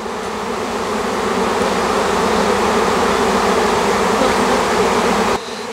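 A swarm of honeybees flies around a branch, making a dense, loud, continuous buzzing hum close by that cuts off abruptly near the end.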